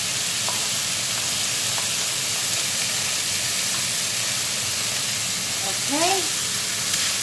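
Dried shrimp sizzling in hot oil in a pan while Hakka yam abacus seeds are cooked, a steady, close crackling hiss with light stirring scrapes and a short spoken word near the end.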